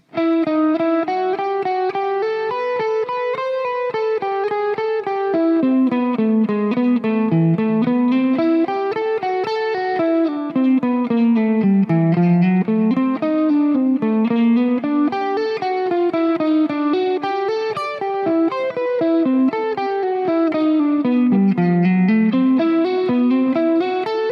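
Distorted electric guitar plays a continuous melodic line with sustained, saturated notes, steady and loud throughout with no pauses.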